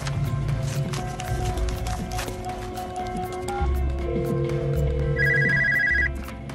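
A telephone rings with repeated bell-like tones over a dramatic music score, loud and steady through the scene.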